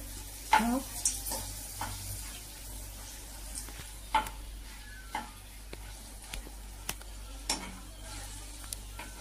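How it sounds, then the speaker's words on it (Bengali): Dried red chillies frying in hot oil, heard as a quiet, sparse scatter of crackles and small pops over a low background hum, with short gaps between bursts. "আমি শুকনো লঙ্কাগুলো তেলে ছেড়ে দিলাম"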